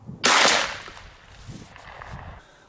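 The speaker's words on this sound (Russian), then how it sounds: "Ну, сейчас еще третий выстрел сделаю" A single loud, sharp blast from a Beretta Belmonte shotgun close by during target patterning, followed by a decaying rumble and faint outdoor ambience.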